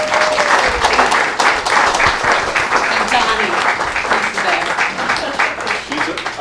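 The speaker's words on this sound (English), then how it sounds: "I just want to give again a big round of applause to Melissa Wagner" Audience at a music tour concert in Falmouth applauding, a loud, continuous wash of clapping with faint voices mixed in, steady for several seconds.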